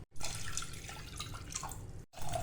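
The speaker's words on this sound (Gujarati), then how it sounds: "ત્રીજો વાટકો પાણીનો એડ કરું છું અને હવે આ લાસ્ટ ચોથો વાટકો" Water poured from a bowl into a pressure cooker for khichdi makes a continuous close splashing gush for about two seconds. It cuts off briefly, then the pour resumes.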